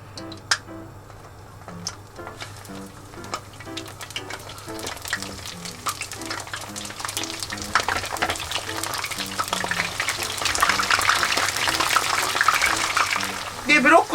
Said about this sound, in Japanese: 先っちょからふつふつっと油が軽く出るようになったら、ブロッコリーどんどん入れていきます